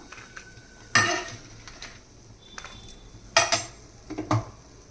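Roasted dry red chillies, cumin and coriander seeds tipped from a pan onto a plate, giving a few sharp metallic clanks and scrapes of a spoon against cookware amid quiet pauses.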